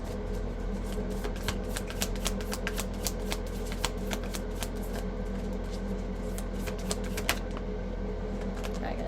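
Tarot cards being shuffled by hand in a steady stream of light, crisp riffling ticks over a faint steady hum, with no talking.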